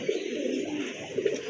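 A pair of pigeons coos close by at a pigeon sale, giving soft, low, steady cooing with a couple of slightly louder pulses.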